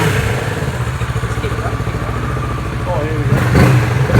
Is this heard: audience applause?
no